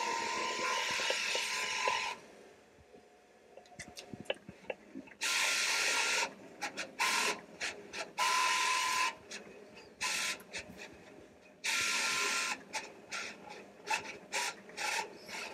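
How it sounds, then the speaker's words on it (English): A Roland 300v print-and-cut machine feeds printed vinyl backwards, with bursts of bright mechanical whirring and rasping, short stuttering ticks, then more long whirring runs separated by quiet gaps. "now that it has fully printed, the machine is now feeding it back."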